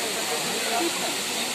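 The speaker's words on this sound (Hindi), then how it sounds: "झरना" Waterfall near a Siya Devi temple in a village setting, a steady broadband rush of falling water filling the whole moment without pause, loud and close.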